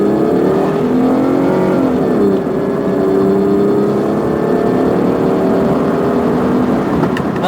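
A silver 2000 Hyundai Sonata GLS with a smashed light accelerates hard up to 60 mph, its engine note heard from inside the cabin, loud and continuous, rising in pitch, easing as it shifts, then climbing again.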